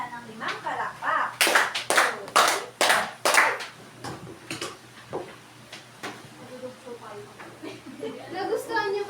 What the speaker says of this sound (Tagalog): Bigyan din natin sana ng 5 palakpak.